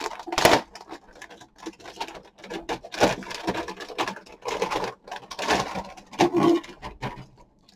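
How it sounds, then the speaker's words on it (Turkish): Plastic bag around an MSI RTX 4080 Super graphics card being opened, a series of close crinkling rustles in irregular bursts with short pauses between. "Poşetini de açıyorum."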